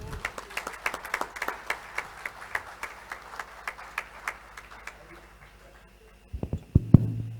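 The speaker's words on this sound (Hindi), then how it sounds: "सारे मेंबर्स उसी असरदार तरीके से तालियां बजाएंगे सर के लिए" Scattered hand claps from a small audience at a GST master class seminar, irregular and fairly close, thinning out over several seconds before a few louder thumps at the end.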